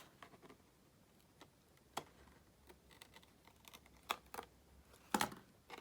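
Quiet, sparse scissor snips and small clicks sound close up, trimming a stitched flower piece, irregularly spaced, with faint rustling between them.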